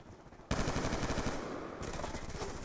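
Automatic weapon fire in the online shooter Black Ops II: a sudden loud, rapid burst of gunfire starting abruptly and continuing as a dense, sustained rattle to the end.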